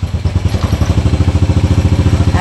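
A 12-year-old Honda Wave 100 motorcycle being restored, its engine running close and loud with a fast, steady, even idle putter, heard alone.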